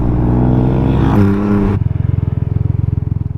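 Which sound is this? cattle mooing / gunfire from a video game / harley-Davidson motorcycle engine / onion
harley-Davidson motorcycle engine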